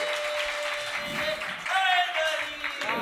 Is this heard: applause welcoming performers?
yes